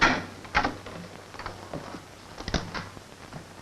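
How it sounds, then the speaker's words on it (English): A door creaks open with mechanical clicks and a thump or two in an old 1944 western film, heard fairly close amid faint room noise, with no talking. "All right, Marvy, open the door."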